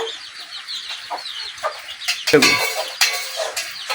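Hens clucking in a short burst of close, choppy calls, with one louder squawk midway and no talk.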